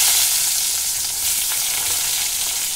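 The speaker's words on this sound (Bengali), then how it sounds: "এর মধ্যে কেটে রাখা বেগুনগুলো দিয়ে দিচ্ছি" Cut eggplant pieces fry in hot oil with toasted nigella seeds, giving a loud, steady sizzle with faint stirring scrapes throughout and no voices.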